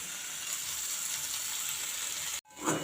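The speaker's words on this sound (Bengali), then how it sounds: "আবার একবার ঘেঁটে ঘেঁটে দেবো এইভাবে" Red amaranth greens sizzle and fry steadily in a pan as they are stirred, a close continuous crackle that cuts off briefly near the end before a soft scrape resumes.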